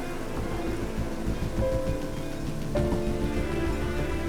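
Steady rain and storm noise from a thunderstorm, a dense continuous wash with low rumble throughout, fairly loud and unbroken, with no talking.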